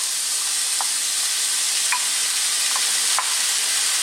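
Potatoes and onions fry together in a pan for a vegetable samosa filling, making an even, hissing sizzle with a few soft clicks as they are stirred.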